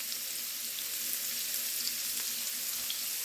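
Ground hamburger meat sautéing with garlic in a pan, giving a steady, even sizzle and crackle that holds at the same level throughout, close up, with no one talking.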